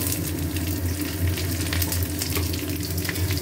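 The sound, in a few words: onions frying in oil in a wok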